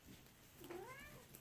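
A cat named Falcor gives a single rising-and-falling meow, fairly close, over a low steady hum while someone works on replacing the outer tie rods of a 2012 Honda Civic.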